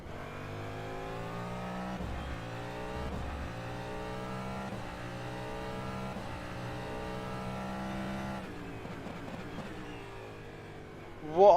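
Cadillac DPi hypercar racing around the Nürburgring in the rFactor 2 sim, its engine holding a steady loud drone with rising and falling pitch through gear changes, a sharp burst near the end.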